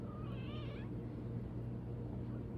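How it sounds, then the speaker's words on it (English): A pet cat gives a single wavering meow close by against a steady low background hum, then falls quiet. "sorry, that's my cat"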